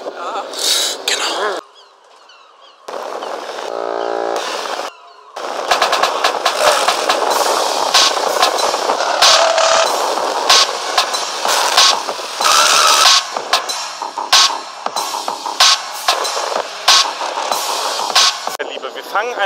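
A KTM EXC 300 two-stroke enduro motorcycle starts up after a short pause and then idles and revs in loud, uneven bursts close by, with some talk.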